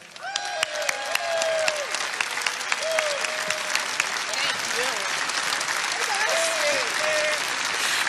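Rally crowd applauding for Iowa State Representative Ashley Hinson at an evening event in Cedar Rapids, Iowa: loud sustained clapping with cheers and whoops, and an amplified voice speaking over it from time to time.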